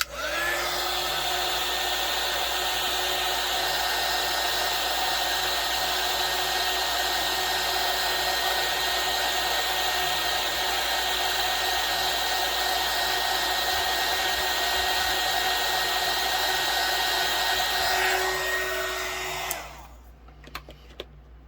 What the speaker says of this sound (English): I'm just going to use my heat gun to get rid of the bubbles